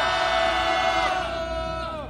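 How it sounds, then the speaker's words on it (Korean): A crowd at an outdoor press conference in Korea demanding the release of detained university students cheers and shouts, a loud, sustained burst of voices that fades slightly toward the end. "환호로 맞이하겠습니다."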